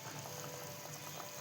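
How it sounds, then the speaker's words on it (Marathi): Chivni fish curry boils in a pot. A soft, continuous bubbling and simmering hiss is heard, quiet and close, with no talking. "मस्त अशी उकळ आलेली आहे, बघू शकता तुम्ही"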